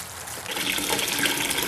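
Water running from a tap in a sink while a quarter is washed, a steady hissing splash that swells and holds after the first half second, close and fairly loud.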